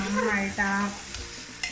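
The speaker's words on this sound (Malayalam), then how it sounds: "നെയ്യിൽ ഇതൊന്ന് വറുത്ത് ഇതാക്കണ പോലെ നന്നായിട്ടൊന്ന് ഇളക്കി കൊടുക്കണം" Rice is stirred and fried in ghee for chicken biryani, giving a soft sizzle and scraping stir strokes. A voice speaks briefly over the cooking.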